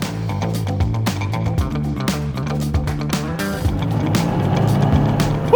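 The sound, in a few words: Lancia Delta Integrale Evo 1 turbo engine surge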